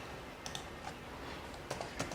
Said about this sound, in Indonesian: teman-teman tinggal ngetik aja di Yahoo